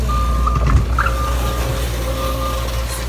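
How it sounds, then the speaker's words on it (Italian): Road paving work with trucks on the street, a steady reversing beep tone sounding over a loud low engine rumble throughout, close and continuous. "scusate per il rumore, ma stanno asfaltando la strada"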